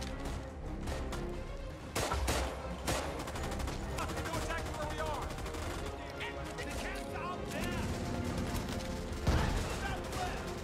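Near-constant gunfire in the World War II shooter RAID: World War II, rapid automatic bursts punctuated by heavier booming shots and explosions, with players talking over the chaos.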